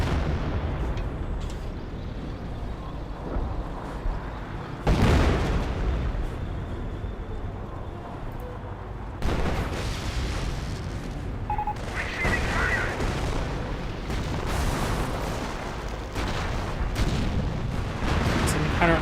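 Artillery fire in Company of Heroes, a Hummel-style self-propelled gun firing amid a dense, continuous wartime din of booms, gunfire and explosions, with several louder blasts standing out.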